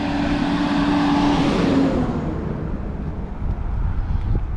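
A car passing by on a road near a bridge, loud and close with a rising engine hum that sweeps past and fades, with gusts of wind buffeting the microphone.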